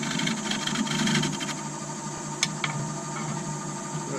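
A wood lathe spins a sapele shallow bowl at 750 RPM, giving off a steady mechanical whir and hum that stays even throughout, with a couple of brief clicks near the end.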